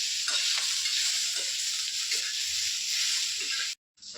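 Cumin seeds fry in hot oil in a home kitchen pan for a paneer and peas curry, giving a steady, close broadband sizzle with light stirring scrapes throughout, cutting out briefly near the end.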